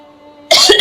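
A single person coughs sharply after a moment of near silence, a short close burst with a throaty catch.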